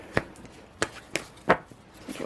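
Several crisp, papery slaps and snaps spaced irregularly as Moonology oracle cards are shuffled and tapped by hand, close and fairly quiet with no voices.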